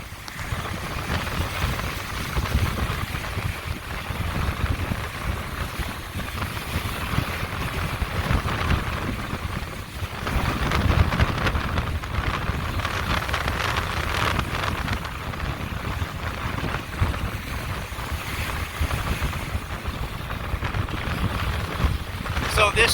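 Hurricane Sally's wind and rain lash Dauphin Island, a steady roaring broadband rush with gusts buffeting the microphone, continuous and loud throughout, with a voice talking intermittently beneath the storm.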